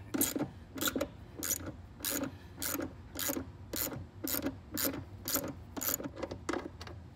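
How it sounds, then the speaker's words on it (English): A ratchet with a 13mm socket loosens the seat bolts of a 2005-2009 Ford Mustang, giving repeated quick clicking bursts at a steady, close rhythm, about a dozen strokes in a row with no talking. "we're going to take out the two bolts down here"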